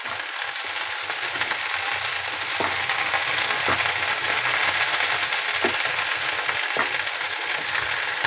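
Okra (bhindi) frying steadily in a pan, a loud continuous sizzle with a few soft stirring scrapes and clicks, no voices.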